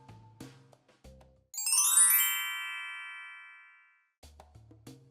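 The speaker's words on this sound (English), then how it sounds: "Your phone is ringing, right?" A phone rings with a bright melodic chime that sustains and fades, set between short low electronic tones before and after, heard alone with no talking.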